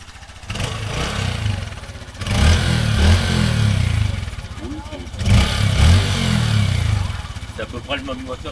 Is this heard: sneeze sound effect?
no